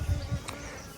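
Honeybees at a beehive buzz in a brief close drone, a steady insect hum with low thumps at the start, all in about one second.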